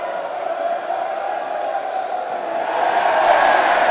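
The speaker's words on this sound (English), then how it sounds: "There's a big cheer from the Needham supporters because the replacement flag is in." Needham Market supporters at a Burton Albion football match raise a steady crowd cheer that swells louder toward the end, a dense roar of many voices throughout.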